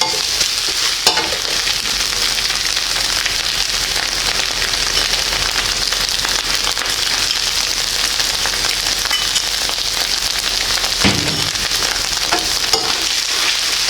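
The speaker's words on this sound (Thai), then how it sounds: "ผัดเข้ากันเรื่อยๆก่อนนะครับผัดให้หอม" Preserved radish stir-fried with egg in a hot pan, a loud continuous sizzle with brisk scraping stirs throughout, close up and without talk.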